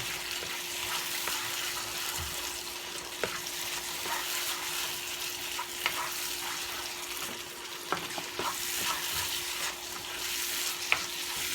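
Curry simmering and frying in a pot while being stirred, with a steady low sizzle and scattered scrape and clink sounds from the spoon, no talking.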